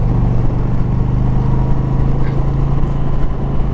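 Engine of a 2020 Indian Challenger motorcycle pulling hard in fourth gear while riding, a loud steady low drone with a constant throbbing hum and wind rush, close and unbroken.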